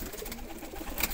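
Kasuri pigeons cooing nearby in soft, low, rhythmic murmurs over a short stretch, faint and close, with no talk.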